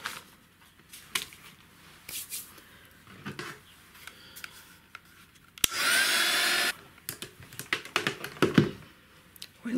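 A hair dryer gives a wet craft piece a quick blast, a short whooshing burst of roughly a second in the middle, set among scattered light taps and handling clicks.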